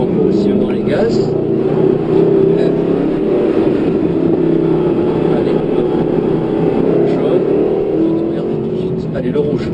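A Mercedes-Benz car pulls away on the Lohéac driving course, its engine note rising steadily and staying close and loud throughout, with an instructor's voice talking over it.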